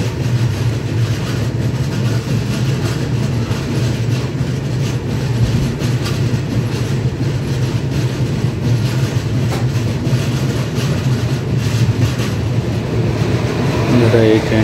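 A Pondicherry–Howrah Superfast Express train at Visakhapatnam station makes a steady, loud, close rumble of rolling stock with faint clickety-clack. It runs continuously for the whole stretch, with no clear voices.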